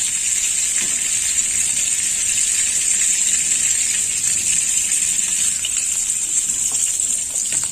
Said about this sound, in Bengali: তেল দিয়ে দেবো